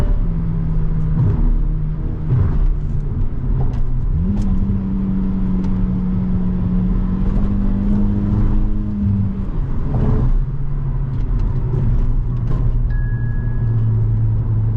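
A Hyundai Verna Turbo fitted with chassis braces cornering on the road, with a steady engine drone that rises and falls in pitch as the car revs through the turn, loud and continuous with no talking over it.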